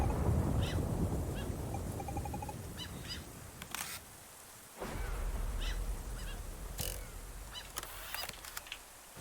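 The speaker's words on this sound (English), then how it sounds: "these seagulls are starting to get feckin' sinister now" Seagulls in the photography game TOEM give several short squawking calls over soft ambient game sound, with a few clicky effects and a sharp burst near the middle.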